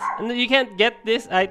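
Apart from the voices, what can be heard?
dog barking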